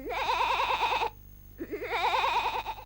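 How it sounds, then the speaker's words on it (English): Cartoon goat giving a wavering, laugh-like bleat in a Dingo Pictures animated Hunchback of Notre Dame, two loud vibrato bursts split by a short pause, alone with no talk. "May I introduce Jolly, the smartest goat in the world?"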